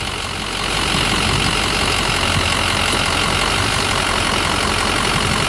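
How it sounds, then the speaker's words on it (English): A Ford Super Duty pickup with a 5R110W automatic transmission idles in park, a steady, close engine drone with a low rumble that holds evenly throughout, with no talking. "All right, that is idle."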